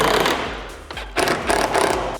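A power drill drives tightly fitting cells into holes in a car workshop, giving short bursts of loud buzzing whir separated by brief pauses, close up with no talking.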